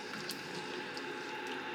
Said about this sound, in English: So I'm just stirring those around